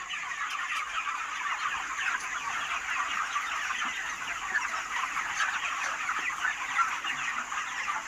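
A dense flock of about 2,550 poultry-farm chickens clucks and chatters continuously, a steady busy murmur of many birds close by with no single call standing out.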